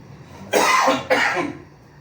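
Two sharp coughs from a person with a cold, in quick succession, close and fairly loud, followed by quiet.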